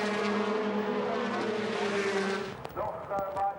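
A blue Opel DTM touring car driven by Timo Scheider spins during a 2000 race, its engine note droning loudly before dropping away abruptly into scattered mechanical noise.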